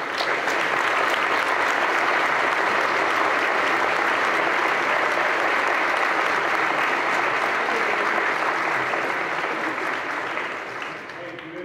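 Sustained applause from a congregation honouring priests at a Catholic priestly ordination, a dense steady wash of clapping lasting the whole stretch and easing slightly at the very end.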